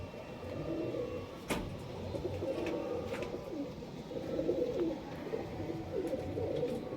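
Flying and breeding pigeons kept as a hobby in Nabadwip coo softly in a faint, continuous low murmur, broken by a few sharp knocks.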